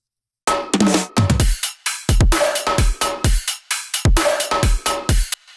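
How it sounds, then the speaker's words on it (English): A punchy trap drum loop with booming bass kicks, crisp snares and rapid hi-hats, starting abruptly after a short silence and playing loud and alone. "I used the trap drum, which sounds like this."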